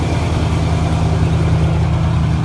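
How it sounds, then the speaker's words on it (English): A new truck's engine idles steadily close by, a smooth, even low rumble with a constant hum and no revving, heard on its own without talk. "This guy definitely idles smoother."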